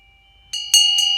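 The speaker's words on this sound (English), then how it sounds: "And so I'm ringing the bell for my dear pal, Eileen McIntyre, a.k.a. Ilene Goldberg." A hand bell rings three times in a quiet room, each bright metallic strike blooming into a sustained shimmering ring that carries on between strokes, close and clear with no talk.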